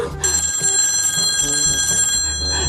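A telephone bell rings loudly and continuously, its bright metallic tone sustained close by, with a faint low sound underneath.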